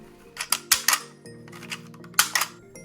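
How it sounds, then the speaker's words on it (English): Unlubricated trigger of a toy blaster revolver clicking and creaking in short bursts, several sharp dry clicks in two clusters, close and distinct in a quiet room. "Without it, the trigger might sound like this."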